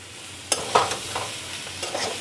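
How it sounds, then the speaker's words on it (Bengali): A spoon scrapes and stirs jackfruit with salt and turmeric in a pan in a few distinct strokes, over a soft, steady background sizzle of frying. "ভালো করে নাড়িয়ে নেব। নুন আর হলুদ দিয়ে 2 মিনিটের মতন ভাজা করে নেব।"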